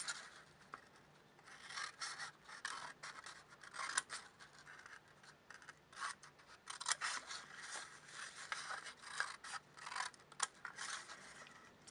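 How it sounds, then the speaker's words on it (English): Scissors cutting through construction paper, a steady run of crisp snipping and scraping strokes, close and fairly quiet, heard on their own without speech. "Now I cut in from the outside,"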